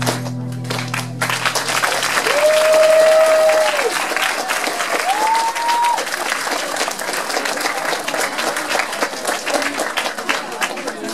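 After a song at a middle-school talent show semi-final, the audience breaks into loud, sustained clapping with two drawn-out cheers or whoops over it. A bit of music fades out at the very start.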